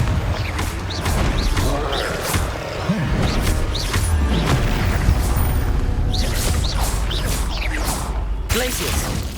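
Spell effects in Hogwarts Legacy on PS5, including the Confringo fire-blast spell, go off in a dense, continuous run of bursts, whooshes and crashes over a constant low rumble of combat, with a voice calling out spell names.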